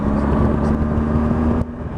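BMW R1200GSA motorcycle engine idling with a slight throttle blip, a steady close low hum with a brief rise before it cuts back.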